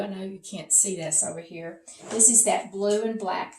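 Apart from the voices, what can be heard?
None of the usual background noises is heard.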